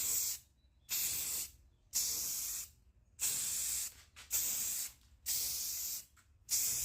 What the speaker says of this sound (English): we're gonna give this a nice coat of this beautiful Rust-Oleum Ultra Matte spray paint